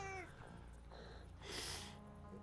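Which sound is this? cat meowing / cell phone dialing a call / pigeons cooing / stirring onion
cat meowing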